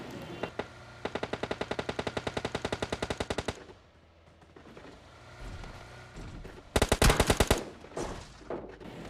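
PUBG Lite gunfire: a close, fast burst of automatic shots, then a quieter stretch with scattered distant noise, and a second short loud volley near the end.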